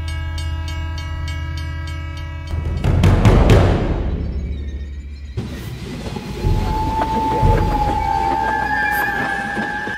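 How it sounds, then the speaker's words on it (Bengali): A train approaches with a loud, sustained horn blast, then a surging roar and rumble of wheels, followed by thinner whistle-like tones over the continuing rolling noise. "ট্রেন আসছে"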